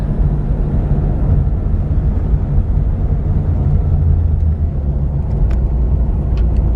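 A 1950 Ford Custom with a 239 flathead V8, three-speed column shift and bias-ply whitewall tires drives along, giving a steady low engine and road rumble throughout with no speech.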